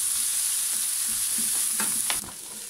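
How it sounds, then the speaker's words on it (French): Vegetables cook in a pan over medium heat, producing a continuous close sizzle with scraping stirs that grow louder toward the end before the frying settles back. "je vais cuire ces légumes pendant environ peut-être 8 minutes, 8 à 10 minutes"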